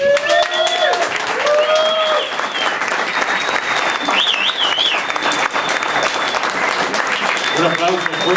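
Sustained, loud audience applause and cheering for a guest musician at a live performance in Mexico's Fonoteca Nacional, with whistles scattered through the clapping across the full length.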